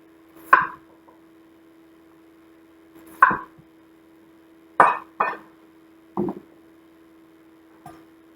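A knife cuts potatoes into cubes on a cutting board, giving about six separate sharp chops with pauses between them, close and clear against a low steady hum, with no talking.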